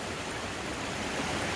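Clean freshwater spring water flows steadily out of the ground in the Alabama woods, a soft continuous rushing wash with no other sounds over it.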